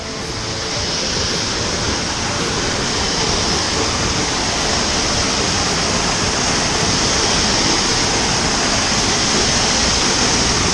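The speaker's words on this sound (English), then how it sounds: "And here's the first waterfall right here." Viento Fresco waterfall in Guanacaste, Costa Rica, roars as a steady, loud broadband rush of falling water that stays constant throughout, with no voices.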